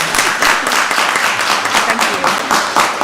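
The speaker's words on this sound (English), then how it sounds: "I'll pause for applause." A seated audience at a county board of commissioners meeting breaks into applause, a steady, fairly loud burst of many hands clapping for about three seconds.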